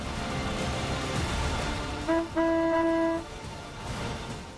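A short car horn honk, a sustained tonal blast of about a second, sounds over steady traffic noise.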